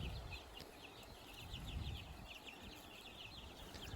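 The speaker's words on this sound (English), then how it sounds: "Raising chickens is a lot of fun." A backyard flock of about fifty young chickens clucking softly, repeated short chirpy clucks in a faint, distant patter over a low background hum, no talk.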